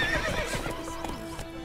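Roach, a horse in The Witcher video game, gives a short whinny over quick clip-clopping hooves, close and fairly quiet, the neigh fading as the trotting continues.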